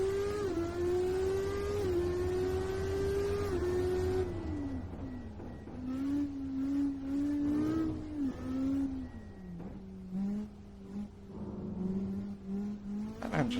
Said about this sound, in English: Engine still sounds loud.